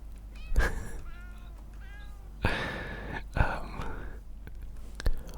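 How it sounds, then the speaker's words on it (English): A small cat meows repeatedly in a video game, several short plaintive calls spread across the clip, close and fairly quiet, with soft breathy whispering in places. "Oh, a little kitty, hi there."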